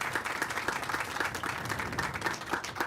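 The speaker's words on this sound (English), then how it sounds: "I want to say huge round of applause to you and all of their teams" Steady applause from the audience at the Rose Creek groundbreaking, a moderate patter of many hands clapping continuously throughout, heard alone without talking.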